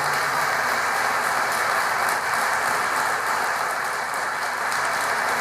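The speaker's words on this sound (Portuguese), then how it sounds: "Eu posso ouvir uma salva de palmas dessa igreja?" A church congregation gives a sustained round of applause, a dense, even wash of many clapping hands filling the room without a break.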